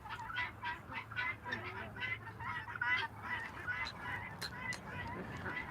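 Waterfowl calling at a pond with a flowing waterfall nearby, a repeated series of honking, quacking calls in an irregular rhythm over a constant wash of water, moderately distant and fairly quiet.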